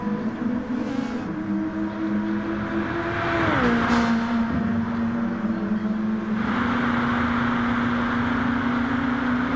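A SUPER GT race car powers out of the final corner, its engine a steady high whine that holds, dips briefly, then climbs again, loud and continuous, with crowd and track noise in the background.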